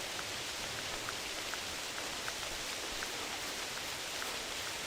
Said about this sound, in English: Frickin' rain. Stop, please.